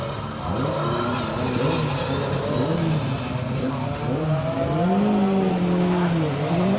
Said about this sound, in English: Dave Orritt and Thomas Parks fire their Escort RS 1800 full historic spec car off the line